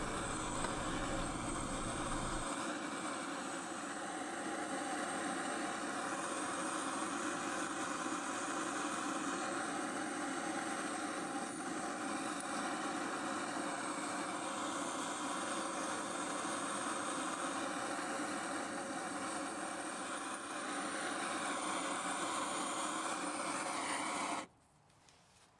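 A gas torch roars in a steady, continuous hiss while heating copper powder, holding a constant level for about twenty-five seconds before cutting off abruptly near the end.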